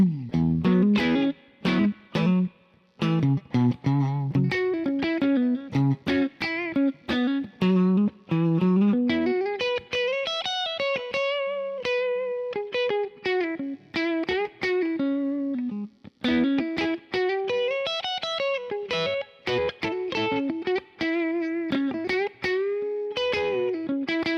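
An electric guitar rings through a Kemper spring reverb, picked notes and sustained chords trailing into a splashy, washy tail, loud and alone without speech.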